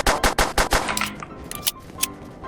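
An MG machine gun firing in the Roblox game War Age Tycoon, a rapid burst of about five sharp shots followed by scattered, quieter single reports and impacts.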